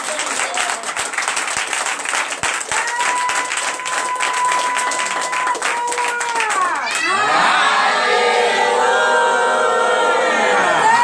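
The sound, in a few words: congregation cheering and acclaiming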